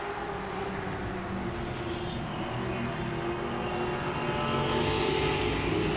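Grand Stock race cars roar around the oval at Langley Speedway, a steady, dense engine drone that swells slightly as the pack draws nearer, with no voices.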